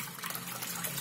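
Water being drained off washed moong dal, a steady close rush of pouring, splashing liquid with no pauses.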